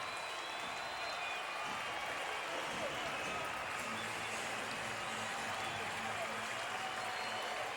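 A Monday night baseball crowd of about 19,212 stands and cheers with sustained, dense applause and roaring voices filling the whole stretch, steady and loud throughout.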